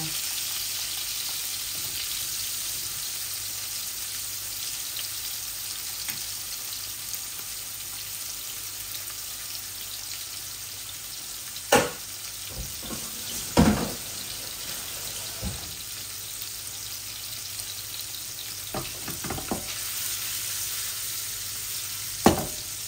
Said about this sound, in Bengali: মাছগুলা ভাজা ভাজা হয়ে যাক